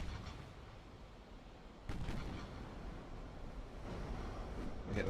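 Naval artillery salvo booming in the Ultimate Admiral Dreadnoughts warship game, a couple of dull distant thuds over a constant rumbling sea-battle background, with no talk.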